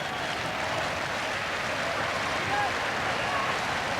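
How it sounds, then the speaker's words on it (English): Steady applause fills an indoor arena crowd at a 1986 Soccer Six six-a-side football championship, a dense even wash of clapping that holds at one level throughout. "Applause ringing round the arena."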